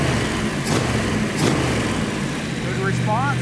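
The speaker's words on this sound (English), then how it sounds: "So now with the engine running" Idling engine of a 1971 Plymouth Cuda with a 440 six-barrel V8 and four-speed, a steady low rumble running close and continuous for a few seconds.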